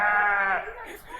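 Sheep bleating, a single drawn-out wavering cry close by that fades at the end.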